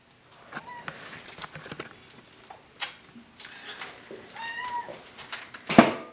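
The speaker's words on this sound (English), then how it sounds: "you meow right back at him, Izzy" A cat meows a few times, with a sharper, louder cry near the end, amid soft household rustling and clicks.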